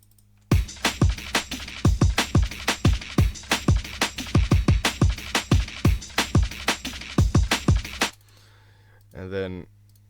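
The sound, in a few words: layered drum beat with snares and hi-hats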